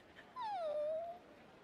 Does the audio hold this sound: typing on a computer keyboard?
no